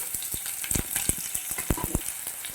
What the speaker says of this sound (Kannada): ಒಂದು ದೊಡ್ಡ ಈರುಳ್ಳಿಯನ್ನು ಹಾಕೋಬೇಕಾಗ್ತೈತಿ ಹಾಕ್ಕೊಂಡು ಕೆಂಪಂಗೆ ಆಗುವವರೆಗೆ ನಾವು ಹುರ್ಕೋಬೇಕು